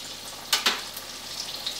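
Doughnuts dropped into hot oil give a steady close sizzle and bubbling, with two brief louder splashy bursts early on as they go in, and no talking.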